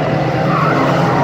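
Race cars skid at Aldershot Raceway with a loud, continuous rush of tire and engine noise over one short stretch.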